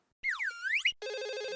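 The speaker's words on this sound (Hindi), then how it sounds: "ओ आप उठाइए ना फोन" Telephone ringtone in a household, with a sweeping warbling melody followed by a steady buzzing trill, loud and alone without talk.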